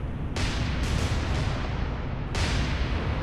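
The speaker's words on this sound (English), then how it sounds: "And we will use the aft guns" Naval guns firing in the War on Sea video game, Tokyo mod, with aft guns in a sea battle: a continuous dense roar of heavy gunfire and blasts, loud and sustained, with sharper bursts near the start and toward the end.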